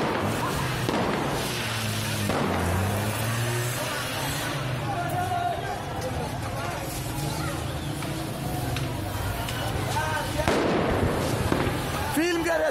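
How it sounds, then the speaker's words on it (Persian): Sharp cracking bangs of gunfire ring out amid a noisy street protest, with people shouting and traffic rumbling throughout. "شلیک مستقیم"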